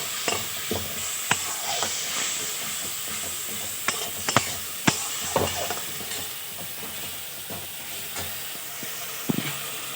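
Masala paste of nigella seed powder, green chilli paste and ginger paste sautéing in oil for a festive-style katla fish kalia, a steady close sizzle broken by sharp scrapes and taps of stirring, no voices.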